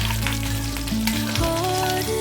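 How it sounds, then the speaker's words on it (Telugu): Tempering spices, cumin, coriander seeds, chana dal and urad dal, frying in oil in a kadai on a stove, a dense close sizzle with tonal hums running throughout, no talk. "బాండి పెట్టుకొని అందులో ఆయిల్ వేసుకొని ఈ పోపు దినుసులన్నీ అందులో వేసుకోవాలండి"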